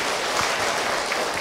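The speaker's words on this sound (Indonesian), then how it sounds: "Tepuk tangan buat ibu tadi yang bertanya." An audience claps for a woman who asked a question, a dense, even burst of applause filling the whole short moment without talk.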